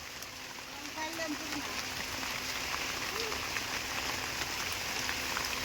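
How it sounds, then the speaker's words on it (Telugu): Heavy rain pours down in a mango orchard, a steady, dense hiss of drops hitting leaves and ground, with a low hum running through it. "ఫుల్ వర్షం పడుతుంది."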